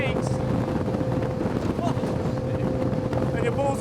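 Twin-engine powerboat speeding across open water, a steady loud engine drone with a constant hum and wind buffeting the microphone throughout, people talking faintly over it.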